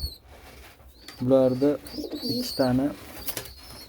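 Two close, soft phrases of pigeon cooing rise and fall in a quiet space, with a person speaking briefly nearby.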